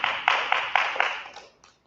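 A church congregation claps together after a sermon, bursts of applause with a few rhythmic accents, fairly close and moderately loud, fading out within two seconds.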